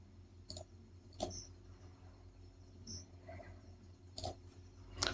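Computer mouse clicking in GraphPad Prism software: a few sharp, isolated clicks scattered over several seconds, close and fairly quiet against a faint room hum, with no talking.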